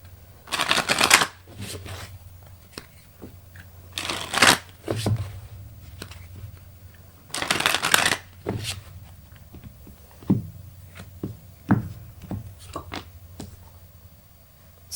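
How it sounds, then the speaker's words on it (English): Cards being shuffled in several bursts of riffling and bridging, with quieter taps and handling sounds in between, close by. "You saw me shuffle."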